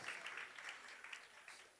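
Birthday gathering where a small crowd claps for a gift, a faint, brief patter of applause heard from a distance and lasting under two seconds.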